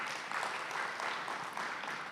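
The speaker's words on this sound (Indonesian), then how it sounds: "Beri tepuk tangan buat nama Tuhan." Congregation applause during a Sunday church service: dense, steady clapping from a large crowd that holds evenly for about two seconds, with no voice over it.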